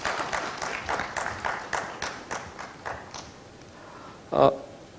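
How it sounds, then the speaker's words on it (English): Audience applause welcomes panelists at a public policy dialogue, a burst of rhythmic clapping that thins and fades over several seconds before one louder thump near the end, with voices faintly beneath. "Let's give a great round of applause to welcome our panelists."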